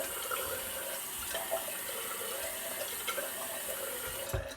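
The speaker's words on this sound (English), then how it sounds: "Just add a couple drops of water right to the brush." Water from a tap runs steadily close by onto a shaving brush, a soft continuous hiss and splash, ending with a small knock.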